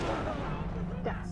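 Grenade blast in the shooter game Halo Reach, a dull rumbling boom under gunfire and game noise, with someone talking over it.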